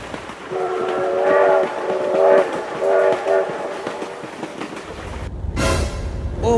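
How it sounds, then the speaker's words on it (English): A video-game train rolls past with a sustained blaring horn sounded several times over rumbling wheels, loud and close, ending in a sharp burst of noise. "Oh my god, train!"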